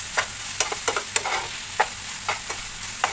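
Chicken filling with tandoori masala, chili flakes, chicken powder, white pepper and roasted coriander-cumin stir-fried over high heat. A spatula scrapes in quick, irregular strokes over a continuous close sizzle, with no talking.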